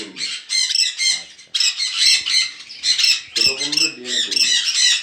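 Green cheek conure parrots in a bird shop squawk in loud, harsh, overlapping bursts nearly without pause, with a voice briefly audible beneath the racket.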